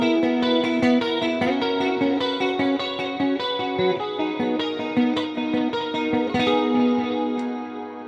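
Aria Pro II LS600 Les Paul-style electric guitar with DiMarzio pickups, played through reverb, shimmer and delay effects: sustained chords and picked notes ring out with a lush, washy trail, loud and continuous, no talking.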